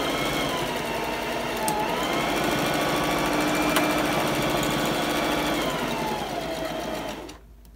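A sewing machine runs in one continuous, steady stretch, triple-stitching salvaged fabric back and forth with a close, even mechanical whir, then stops abruptly near the end.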